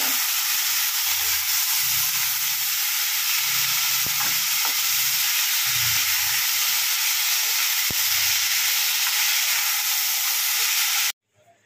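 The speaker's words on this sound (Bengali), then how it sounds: "লাল শাক ভাজবো, তার জন্য তেলেতে রসুন আর শুকনো লঙ্কা ফোড়ন দিয়েছি" Red spinach frying in hot oil tempered with garlic and dry chilli, a steady loud sizzle and hiss with occasional stirring clinks from a spatula, cutting off abruptly at the end.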